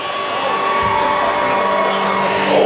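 Crowd at a saddle bronc long-go at the Black Hills Stock Show, cheering and whooping steadily throughout at close range, with an announcer's voice layered over the noise.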